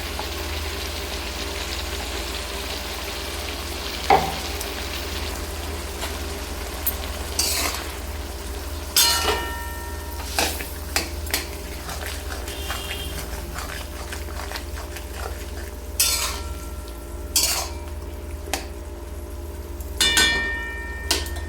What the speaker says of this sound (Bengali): লাউ ডাঁটা দিয়ে দু থেকে তিন মিনিট নাড়াচাড়া করার পরে